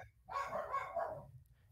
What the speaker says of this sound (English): I'm going to deal with my dogs real quick